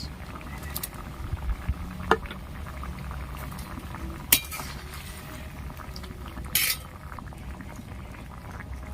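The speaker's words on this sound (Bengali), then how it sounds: "ঝোলটা ফুটছে, ওপর থেকে দিয়ে দিচ্ছি ভেজে রাখা চিংড়ি মাছ।" Prawn curry gravy bubbles steadily in a pot, a continuous soft boiling patter with a few sharp clinks of a utensil against the rim.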